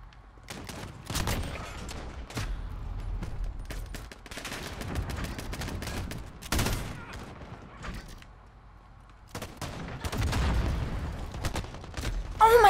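Gunfire during a Modern Warfare match comes in repeated heavy bursts and booming volleys with short gaps between them, loud and continuous throughout with only faint background voices.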